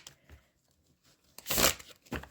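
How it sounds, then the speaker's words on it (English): A deck of thick, slightly stiff tarot cards being riffle shuffled, heard as a short quiet rustle followed by one loud, dense burst of cards snapping together and a brief final flutter. "But they riffle shuffle really well."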